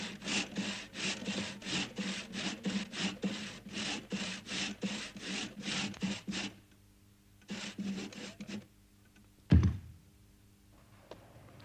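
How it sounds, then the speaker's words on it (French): Wood being sawn by hand in a remote, cold Alpine setting: a steady rhythm of rasping back-and-forth strokes, close and clear, then a pause, a few more strokes and a single dull thunk. "ou encore le bois à scier car il fait très froid l'hiver dans ce coin retiré de l'Alpe."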